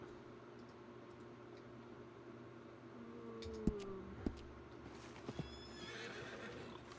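A horse in a video game gives a short neigh and snorts with a few hoof clops against a quiet ambient background. The sounds are fairly faint and come in the middle of the stretch.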